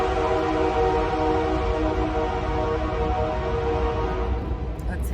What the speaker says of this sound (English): we'll let the train go by